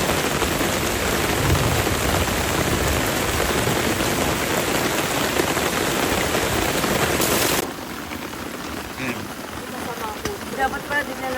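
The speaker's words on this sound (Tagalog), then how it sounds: "biglang bumuhos ang malakas na ulan." Heavy rain pours down steadily over a hillside farm in Arayat, Pampanga, a dense loud roar that drops to a softer patter near the end, with scattered drips and faint distant rumbles.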